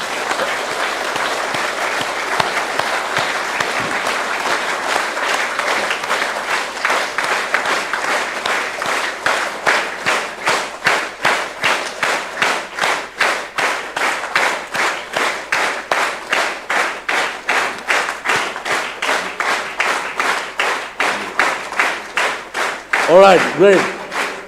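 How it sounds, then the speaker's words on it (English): A large audience applauding at an inauguration ceremony, steady dense clapping that gradually settles into rhythmic, synchronized beats for over twenty seconds, loud and close, with a brief spoken voice near the end. "then you applaud for a good half a minute, please"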